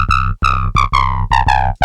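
A simple synth riff in C played through a speaker, five bright plucky notes in a steady rhythm, loud and close with no voice over it.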